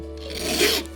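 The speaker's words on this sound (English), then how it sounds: "now we'll put a 45-degree bevel on it with our coarse file once again" Coarse metal file rasping a 45-degree bevel onto a small clock pin held in a pin vise, a single close, gritty stroke that swells and fades over about a second.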